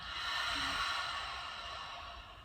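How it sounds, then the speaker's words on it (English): A single long exhale out through the mouth during a yin yoga heart-opening practice, a soft close airy breath that swells and slowly fades. "Exhale out the mouth."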